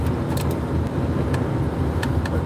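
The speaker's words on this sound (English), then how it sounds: "here we are on the open road. Got the AC rolling. The windows open. It'll probably be too loud for you guys." Road noise fills the cabin of a camper car moving along an open road in Pennsylvania with the windows open and the air conditioning running. A loud, steady rumble and wind roar continue with a few brief rattles.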